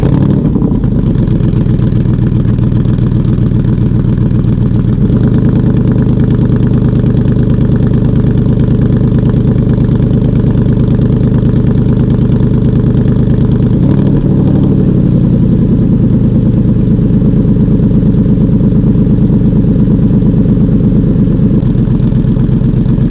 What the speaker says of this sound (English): Idling 900, motor cooled off a little bit